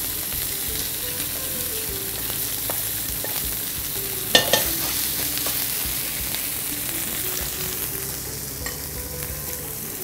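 Curry paste frying in a pan beside fried tofu gives a steady, close sizzle with faint stirring scrapes and one sharp clink near the middle; no one speaks.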